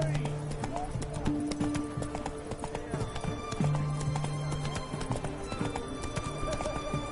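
Roach, a horse in The Witcher 3: Wild Hunt, moves along with rhythmic clip-clopping hooves and a couple of neighs, close and clear.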